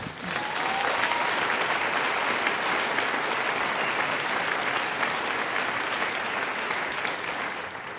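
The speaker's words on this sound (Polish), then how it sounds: "Jeszcze raz wielkie brawa." A large festival audience applauds after a jazz concert, dense and loud continuous clapping that holds steady for the whole stretch with a faint murmur of voices underneath.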